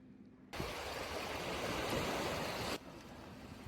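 Ocean surf on the coast rushes in as a single broad wash of water, rising abruptly and holding steady for about two seconds before dropping back to a quieter background, with no voices.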